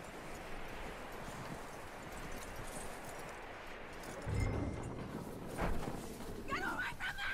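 Horse hooves clip-clop in the Red Dead Redemption 2 video game, a few muffled steps standing out around the middle of the clip over a steady, busy background of ambient noise.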